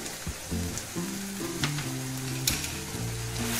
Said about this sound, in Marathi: मंद आचेवर आपण आता हे भाजून घेऊया तेल सुटेपर्यंत.